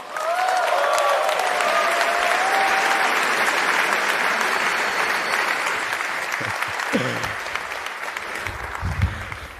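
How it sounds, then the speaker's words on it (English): A Bitcoin Amsterdam conference audience gives Cameron Winklevoss a loud, sustained round of applause that fills the hall and then tapers off, with a few scattered voices near the end. "give a huge round of applause to Cameron Tyler Winklevoss"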